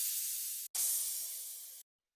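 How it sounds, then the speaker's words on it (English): Two chopped cymbal samples from an industrial techno track: a short bright hiss snaps off, then a longer washy cymbal burst with a faint lower body cuts off sharply, leaving silence. "Basically, I just have these two different cymbal samples."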